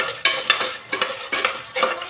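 Black pepper and cumin seeds being dry-roasted and stirred in a pan, with a run of scraping, clinking strokes that come in uneven bursts close by, and nobody talking.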